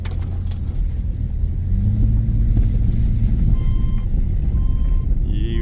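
A Subaru rolls through a soft, freshly filled dirt sinkhole, giving a steady low engine rumble with a rising tone partway through and a brief high electronic beep near the end.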